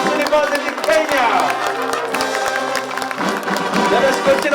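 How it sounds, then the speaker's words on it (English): An audience at a university charter ceremony for the National Defence University, Kenya, applauds steadily, a dense, continuous patter of clapping throughout. "Let us all give a hand of applause to the National Defense University, Kenya."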